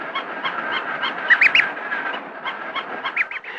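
A young duckling peeps contentedly in a run of quick, close, high chirps, some louder and more drawn out than others, with no talk.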